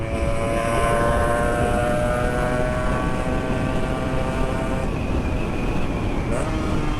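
A 2-stroke motorcycle cruises at about 70 km/h, its exhaust note a steady, buzzing drone with rising harmonic whine, heard continuously from the rider's position with wind rush.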